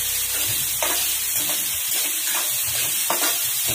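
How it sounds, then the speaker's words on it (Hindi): Onions frying in a pan for instant poha, a loud continuous sizzle close up, broken by a few stirring scrapes, with no voices. "तकरीबन 2 मिनट तक हम उसे अच्छी तरह से फ्राई करेंगे"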